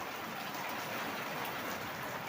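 Heavy rain pours down in a dense, steady hiss with no pauses, filling the whole scene, with water falling from a house roof.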